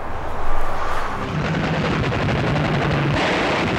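Dense, continuous rumbling gunfire from aircraft strafing a train, with a low droning hum underneath, loud and steady throughout with no voices.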